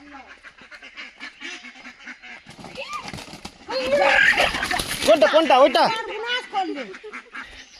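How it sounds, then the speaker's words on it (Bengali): Domestic ducks honk and quack loudly while several people chase them near a village pond, the calls rising in bursts amid excited shouting and talk. "হাঁস ধরতে গিয়ে হাঁস ফসকে নেমে গেছে পুকুরে।"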